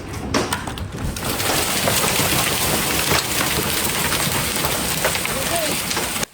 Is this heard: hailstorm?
yes